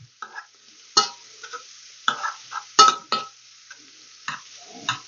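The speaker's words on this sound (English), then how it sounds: "I've got my pot over here with my celery, onions, and bacon cooking away. Give that a stir." A spoon stirs celery, onions and bacon cooking in a soup pot, giving scattered scraping clinks and short bursts of soft sizzling that come and go, with quiet gaps between strokes.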